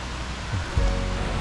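A loud valley stream rushes through a pine forest on Homyeongsan in Gapyeong, giving a steady broadband roar of water close by with no talking.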